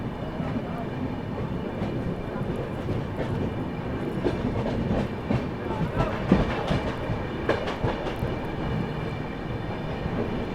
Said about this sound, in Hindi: आनंद विहार भागलपुर विक्रमशिला एक्सप्रेस, तो उसके साथ आप लोगों को क्रॉसिंग दिखाते हैं